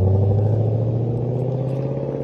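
Car lapping a track at speed, a loud steady close engine drone with a continuous rumbling tone throughout, no voices.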